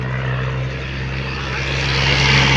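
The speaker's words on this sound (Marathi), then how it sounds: "ट्रॅक्टर" A tractor engine drones along a rural road near a temple: a steady low rumbling hum that grows slightly louder as it passes, with no voices.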